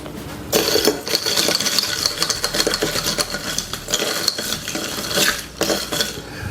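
Ice clatters and clinks steadily inside a glass or shaker as a lemonade-style summer cocktail is stirred, a dense metallic rattling close up and without talk.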